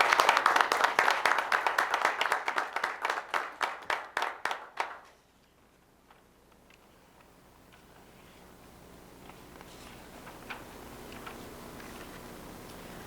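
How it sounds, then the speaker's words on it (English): A board of education meeting audience claps for a staff award winner. Lively, rhythmic applause from a modest crowd lasts about five seconds, then stops abruptly, leaving a quiet room with faint rustles. "Please join me in giving Audra Buckley a round of applause."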